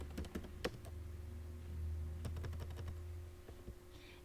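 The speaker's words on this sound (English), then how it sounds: "And then I can type out the audio here." Keys on a computer keyboard clatter in quick, uneven bursts of close clicks, with a low steady hum underneath and no voices.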